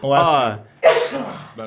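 A single person sneezes close by, a sharp voiced burst followed by a breathy exhale, with a brief voice fragment at the very end.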